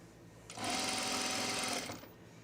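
A sewing machine runs in one quick burst of about a second and a half, stitching a French seam to set in a sleeve on a boho tunic, with a brief quieter lead-in and trail-off.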